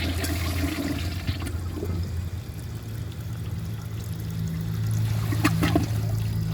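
A 1994 Kohler Wellworth Lite toilet flushes a dish towel, with steady, close rushing and swirling water that continues for the whole stretch and builds slightly toward the end.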